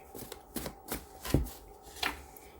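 Tarot cards are shuffled up close in a quiet room, giving a few short, soft riffling and tapping bursts with pauses between them.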